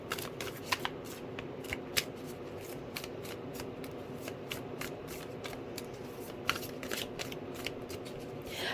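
Tarot cards shuffled by hand close up, a run of quick riffling snaps and soft slides repeating in bursts over quiet room tone.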